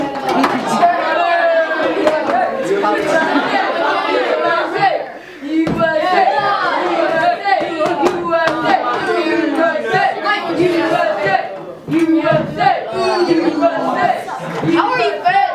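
Classroom audience at an Olympics-themed presentation game, a dense mix of many young voices cheering, shouting and chattering continuously, loud and close, with a couple of brief dips.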